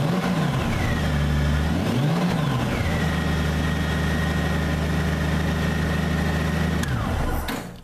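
A 2005 Honda Gold Wing motorcycle engine, around 57,000 miles, idles steadily and close up, with a couple of quick revs near the start before it settles into an even, smooth drone that cuts off at the end.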